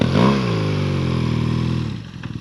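A motorcycle engine drones loudly and steadily nearby on sand in Morocco after a fall, its pitch sagging slightly before it cuts off abruptly.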